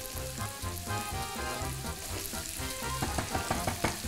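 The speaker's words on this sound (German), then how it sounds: "guck dir mal das Wasser an. Es kocht." Pasta water boiling in a pot: a steady, dense bubbling and sizzling roar that continues alone without any talk.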